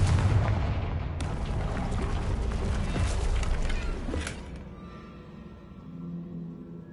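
Confringo fire-blast spell breaking through a barrier in a wizard video game: a loud booming explosion with a rumbling roar that sustains for a few seconds, then decays into a low fading rumble.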